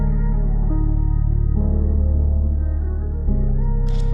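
A smooth 808 bass line with a simple melody layered above it, forming a steady, loud beat with deep sustained low tones that shift pitch every second or so, and no voices.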